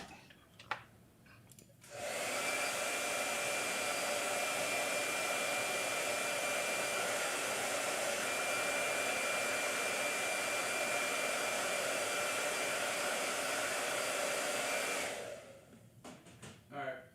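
A blow dryer switches on and runs in a steady, loud whoosh for about thirteen seconds while drying paint in a hot-press sketchbook, then cuts off, with faint handling noises before and after.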